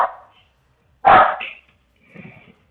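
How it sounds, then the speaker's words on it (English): Cinnamon, a guard dog, lets out one loud, close bark at a wall, followed by a fainter, rougher bark or growl a second later, with a voice briefly heard at the start. "That's Cinnamon, our guard dog, barking at the wall right now."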